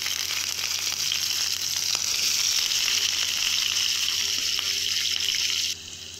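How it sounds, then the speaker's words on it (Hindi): Sliced onions fry in moderately hot oil for chicken korma, a dense, even hiss of sizzling close by with a few light stirring taps, and the sound drops abruptly just before the end. "और इन प्याज़ों को इस ऑयल के अंदर जो है हमने फ्राई करना है।"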